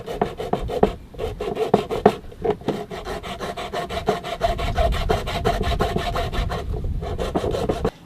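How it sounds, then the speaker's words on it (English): Hacksaw trimming the top edge of a plastic battery box on a boat, a steady run of rapid rasping back-and-forth strokes, close and fairly loud, with brief pauses between bursts. "I'm going to trim a little bit of the top of this battery box, which is plastic, and for that I'm going to use a hacksaw"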